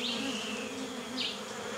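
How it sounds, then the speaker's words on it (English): Bees buzzing around a beehive outdoors, a steady close drone with a low hum and brief louder swells as individual bees pass near. "I can hear buzzing. I can hear like a deep drone, actually."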